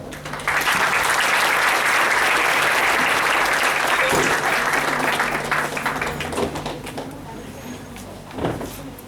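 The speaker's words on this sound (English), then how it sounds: "Welcome all our dignitaries with a big round of applause." An audience at the inauguration ceremony of a national conference on stress management during COVID-19 claps in loud, sustained applause that fades gradually over about eight seconds, with a few faint knocks near the end.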